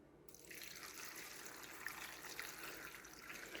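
Water pours steadily from a container over garlic cloves set to soak, a continuous close splashing gush that starts abruptly and runs on at an even level.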